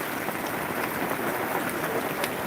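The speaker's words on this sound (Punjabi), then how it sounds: "ਫਗਵਾੜਾ ਰੋਡ ਤੋਂ ਸਾਂਝੀਆਂ ਕਰ ਰਹੇ ਜਿੱਥੇ ਬਾਰਿਸ਼ ਬਹੁਤ ਤੇਜ਼ੀ ਦੇ ਨਾਲ" Heavy rain pours down on Phagwara Road in Hoshiarpur. It makes a dense, unbroken hiss of drops striking the surface, with no voices heard.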